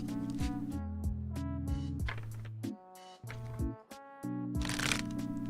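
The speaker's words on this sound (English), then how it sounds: "I can't do that kind of shuffle you're doing." A deck of cards is shuffled up close in a quiet room, probably for card readings. There are repeated riffling and bridging passes, with soft flutters and taps between them and no talk over it.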